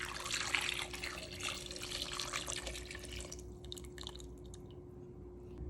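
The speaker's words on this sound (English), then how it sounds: "Pour this whole thing over the meatballs." Liquid sauce poured from a container over meatballs in a cooking pot, a soft steady trickling and splashing that tapers off near the end, fairly quiet with no talking.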